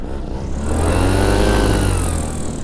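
A paramotor engine revs at high RPM nearby, a loud buzzing whine that swells in pitch and volume through the middle before easing slightly, with no talk.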